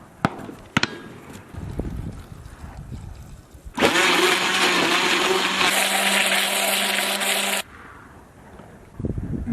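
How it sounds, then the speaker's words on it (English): A blender built into the Coolest Cooler whirs loudly for about four seconds, a steady motor roar with a sharp start and stop, between quieter handling noises. "just like any other run-of-the-mill blender, it's gonna have a hard time chopping up ice very finely"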